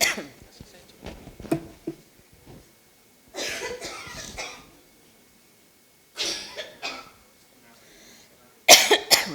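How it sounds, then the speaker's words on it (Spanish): Several harsh coughing fits break out in separate bursts, close and loud, with quieter breathing and throat sounds between them. "Pegaste la tos."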